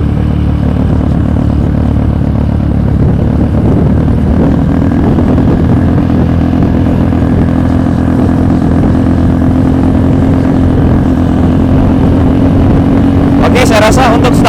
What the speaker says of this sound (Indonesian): di sini saya pakai motor trail ya. Jadi mohon maaf kalau berisik.